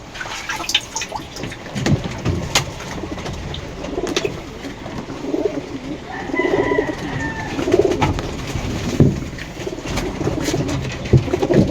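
Racing pigeons coo softly in a low, rolling murmur, with scattered taps and rustles around them, fairly close and steady throughout.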